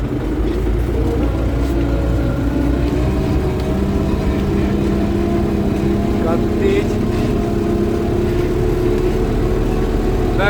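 A heavy YuMZ tractor engine drones continuously under load while autumn ploughing, a low rumbling throb close by, with occasional faint voices in the background.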